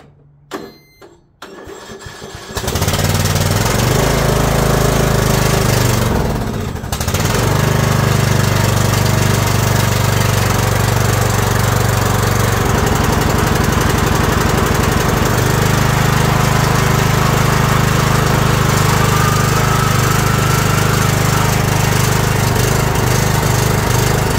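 An abandoned Yardman lawn tractor engine sputters briefly, then catches and roars into loud, continuous running that stays close and steady for the rest of the clip, with a brief dip partway through.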